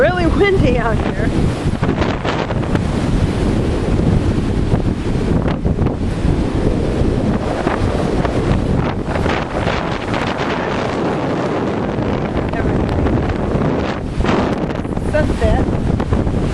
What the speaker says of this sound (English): Kind of really windy out here.